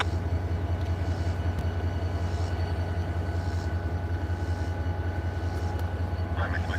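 CSX freight train passing, a constant heavy low rumble and drone held throughout with faint higher tones over it, steady and fairly near, with a voice talking faintly.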